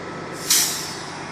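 A bus on a school trip releases its air brakes with a sudden loud hiss that tails off over about half a second, heard close by over a steady engine idle.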